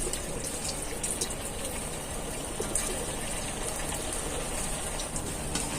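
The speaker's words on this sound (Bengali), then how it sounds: "এবার এগুলোকে আমি ভেজে নিচ্ছি।" Jalebi made from semolina batter frying in a pan of hot oil, giving a steady dense crackle and sizzle like rain, close and constant with no talking.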